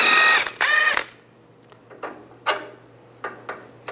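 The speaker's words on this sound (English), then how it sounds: "Use a 19mm wrench on the back side of here to keep the stud from spinning, and then a 17mm socket." A 17mm socket ratchet works a sway bar link nut on a 2005-15 Nissan Xterra, the stud held with a 19mm wrench: two loud rapid ratcheting bursts come first, then several sharp isolated metallic clicks and clunks.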